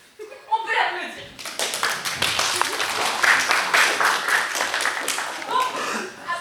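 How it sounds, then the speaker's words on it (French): A café theatre audience bursts into applause, a steady wash of clapping hands with scattered chuckles that swells after a brief quiet start and carries for several seconds, mixed with a little talk. "On peut l'applaudir."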